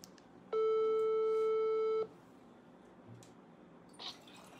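An outgoing phone call rings once with a single steady electronic ringback tone of about a second and a half, followed by faint line noise and a soft click.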